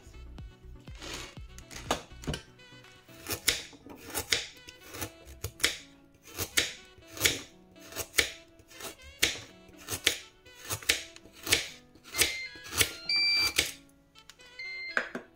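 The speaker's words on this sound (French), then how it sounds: "Donc je vais couper mes carottes en rondelles." A knife slicing carrots into rounds on a board, with a steady run of crisp, evenly spaced chops, close and clear.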